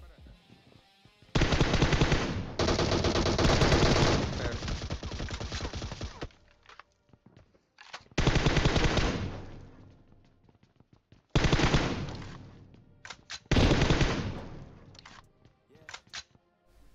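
Automatic gunfire in PUBG Mobile comes in several long, loud bursts of rapid shots. Quiet gaps and a few single isolated shots fall between the bursts.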